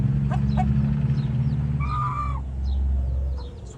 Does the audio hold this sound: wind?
no